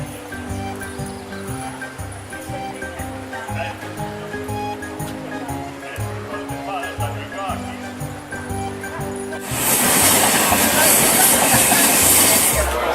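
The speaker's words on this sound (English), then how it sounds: "So there's a train station right in the center of town. Train just pulled in." A train rolls into a small hillside town station, a steady low rumble with rhythmic clatter that swells into a loud hissing roar of brakes and air as it arrives, under talk.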